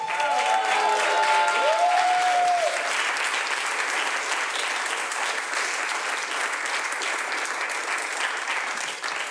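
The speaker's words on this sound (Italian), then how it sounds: "Vi chiederei un applauso perché sono diventato zio per la terza volta." Comedy club audience applauding a stand-up comic, a dense sustained wash of clapping across the whole stretch, loud at first and tapering slightly toward the end, with a brief tonal whistle or voice near the start.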